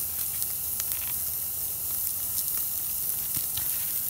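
Raw Johnsonville sausages sizzle on a Lodge Sportsman's cast iron charcoal grill, a steady, soft crackling hiss with scattered pops, close and constant, with no talking.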